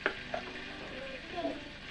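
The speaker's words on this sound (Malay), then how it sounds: "Goreng pisang" Bananas frying in hot oil for a breakfast of goreng pisang, a steady low sizzle with a few soft stirring clicks close by, no talk.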